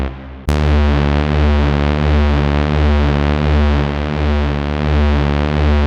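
A 90s techstep-style synth bass with two stacked oscillators starts abruptly and holds a thick, buzzing, distorted drone with slow rhythmic swells, loud and close with no voices.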